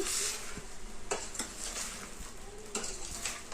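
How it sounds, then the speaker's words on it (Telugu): A spoon stirs sambar in a metal pot during Telugu village-style cooking, scraping and clinking in a steady rhythm over a soft simmering hiss, close and fairly loud with no talk. "ఒకసారి కలబెట్టుకున్నాము"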